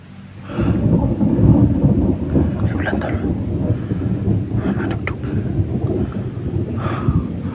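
Rain and rolling thunder in a shooter video game form a steady, loud rumbling wash throughout, with a voice talking over it.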